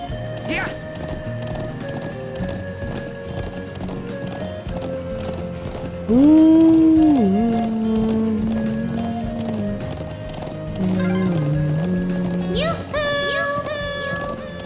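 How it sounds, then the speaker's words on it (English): Horse hooves clip-clop steadily with a neigh in The Legend of Heroes: Trails of Cold Steel, playing under loud game music. "How to ride a horse."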